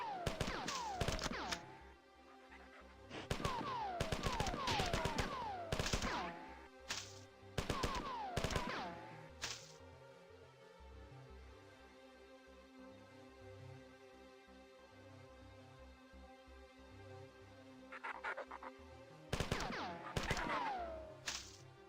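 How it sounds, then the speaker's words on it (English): Assault rifle fire in the classic video game Marathon comes in several sharp bursts of rapid automatic shots, separated by quiet gaps, with a final cluster of shots toward the end. "It is certainly a fucking assault rifle, though."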